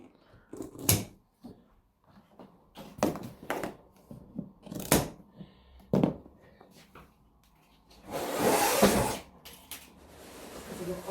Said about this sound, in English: let's move on and cut the straps off